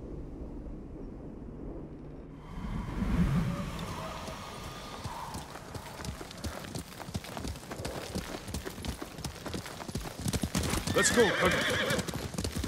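Horse hooves in the Ghost of Tsushima game, first quiet and then rising into fast, rhythmic galloping close by, with a whinny near the start and a voice speaking briefly.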